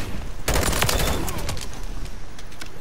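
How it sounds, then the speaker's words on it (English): A firecracker in the Call of Duty MW3 video game sets off a sudden loud burst of rapid crackling pops that rattle on for about a second, then fade into scattered softer bangs. "Oh, hey, firecracker."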